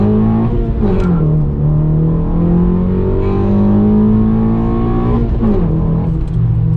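A car engine tuned with a Ktuner V2 revs up in two smooth, rising pulls, loud and close with a steady tone between, with no talking over it.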